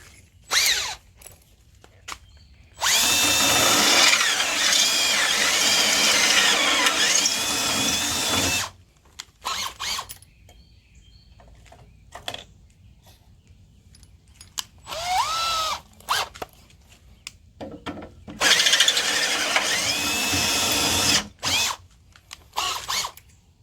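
A cordless drill bores holes through sandwiched steel plates while a winch bull bar is being installed on a Jeep. Two long, loud bursts of whining, grinding drilling come close up, with short gaps of quiet between them and a few brief ratcheting spurts in the middle.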